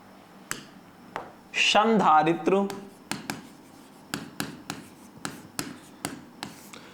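Chalk or marker writes on a board in a physics lesson, with short scratchy strokes and taps repeating in an irregular rhythm, close by, after a brief burst of someone talking.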